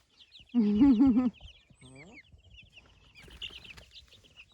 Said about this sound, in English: More egg chickens. Egg-laying chickens.